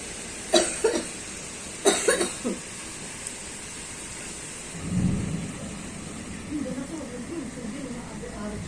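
Steady rain hisses throughout while a deep roll of thunder rumbles in the distance, with a few sharp nearby knocks earlier on.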